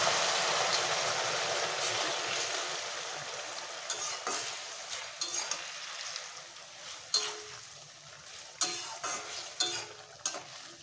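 Ingredients for a Bengali pejar kali recipe poured into a hot frying pan, giving a loud, steady sizzle that slowly settles, with scattered spatters and scraping stirs toward the end.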